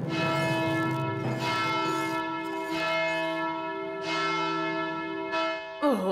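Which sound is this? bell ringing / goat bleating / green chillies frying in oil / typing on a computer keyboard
bell ringing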